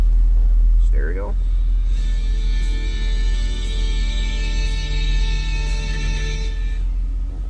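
A 1960 Cadillac Series 62 convertible's 390 V8 cranks briefly, catches and settles into a steady, low idle rumble held close up, with a faint whine riding over it.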